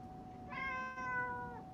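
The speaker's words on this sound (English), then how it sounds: "Oh, hi, Kitty." A house cat gives a single drawn-out meow, close and clear over a low steady hum.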